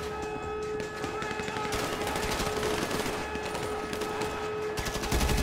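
Rapid automatic gunfire and fusillade bursts from a GTA 5 heist mission on PC, dense and loud throughout with a siren-like tone running underneath.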